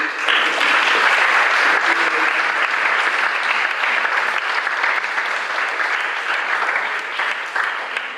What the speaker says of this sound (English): Please join me in clapping